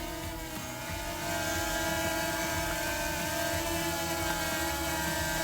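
DJI Mini 5 Pro drone idles on the ground with its motors running, giving a steady, dense propeller whine and hum at moderate level that rises slightly after a second and then holds without speech.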